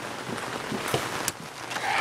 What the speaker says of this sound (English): It's raining. Can you tell? Pretty wet out here.